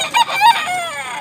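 A 10-month-old Talisayin bullstag gamefowl rooster crows once nearby, a loud, clear cock-a-doodle-doo lasting about a second with rising and falling harmonic calls.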